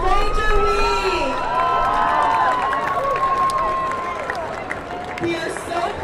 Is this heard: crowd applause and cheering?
yes